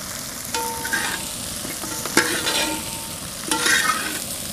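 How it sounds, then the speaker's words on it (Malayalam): Fried chicken tossed and coated in masala with fennel seeds and curry leaves in a hot pan, thattukada style: a steady close sizzle broken by a few scraping stirring strokes. "വറുത്ത ചിക്കനെല്ലാം ഈ മസാലയിലൂടെ ചേർത്ത് ഒന്നുകൂടി നല്ലതുപോലെ പുരട്ടിയെടുക്കുക."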